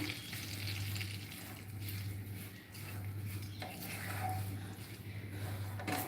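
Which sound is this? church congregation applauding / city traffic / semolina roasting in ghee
semolina roasting in ghee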